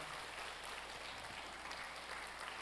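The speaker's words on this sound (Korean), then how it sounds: "박수 그만" Continuous applause from a crowd fills the space, a dense steady patter of clapping with no voices on top.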